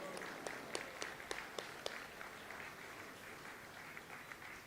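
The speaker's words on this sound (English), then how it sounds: "give him another round of applause." Audience at a Christmas cathedral event applauding a band, a quiet, distant wash of clapping with a few sharp, closer hand claps standing out early on.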